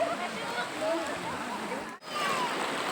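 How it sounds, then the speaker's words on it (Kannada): Water in a stream flows in a constant, rushing wash during a day trip outdoors, with faint voices and a brief dropout partway through. "ಸೊ ಚೆನ್ನಾಗಿ ನೀರು ಹರಿತಾ ಇದೆ"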